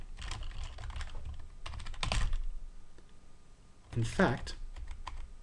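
Quick bursts of computer keyboard typing while coding in Idris mode, with clustered keystrokes and short pauses, and a voice speaking over part of it.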